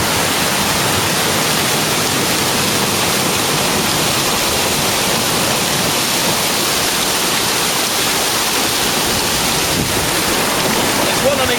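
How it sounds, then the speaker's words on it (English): Water rushes out of a canal lock through an opened gate paddle, a loud, unbroken roar of churning flow that stays steady throughout. "there's lots of water coming out of the lock"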